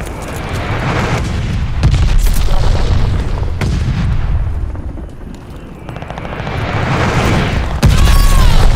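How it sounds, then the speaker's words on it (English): Deep booming blasts from an enemy glide bomb in Call of Duty: Vanguard roll through the battlefield, several heavy explosions swelling and fading over a rumbling din, with no talk. "Enemy glide bomb incoming."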